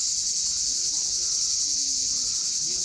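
Dense, continuous high-pitched buzzing of cicadas fills the air, loud and unbroken, with a faint low rumble beneath, on a beach at Koktebel in Crimea.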